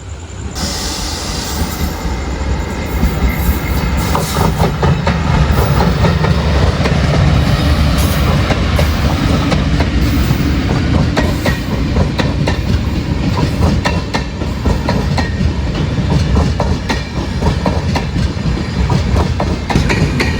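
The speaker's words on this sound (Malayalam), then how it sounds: "അരക്കോണത്തിൻ്റെ 226-18 നമ്പർ WP4 ആയിട്ട് വന്നത് മത്സ്യഗന്ധ എക്സ്പ്രസ് ആണ്." The Matsyagandha Express, hauled by a WP4 diesel locomotive on the Konkan Railway, rolls past close by with a loud, steady roar and rhythmic clickety-clack of wheels over rail joints, plus faint wheel squeal.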